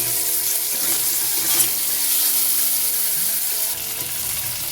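Chopped tomato frying in a pan with potato and tengra fish, giving a steady, close sizzle that holds at an even level throughout with no talking.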